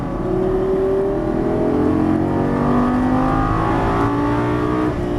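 A Lamborghini Gallardo LP550 on a racetrack accelerates out of a corner, its engine note loud and close, rising steadily in pitch as it pulls hard through the gears.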